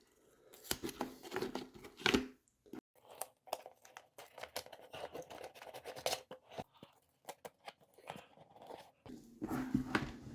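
A strip of duct tape is pulled and torn for a DIY children's Darth Vader helmet craft, giving a close run of sharp ripping and crinkling bursts with brief pauses between them.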